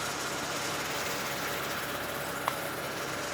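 The turbo diesel engine of a 2013 Mercedes-Benz Sprinter 2500 high-roof extra-long van idles with a steady, even rumble, with one faint click partway through and no talk.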